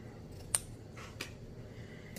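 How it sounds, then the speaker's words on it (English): Scissors snip a small strip of material for a mustache on a handmade Christmas gnome ornament, one crisp close cut followed by a fainter second snip in a quiet room. "you would essentially just cut a little strip"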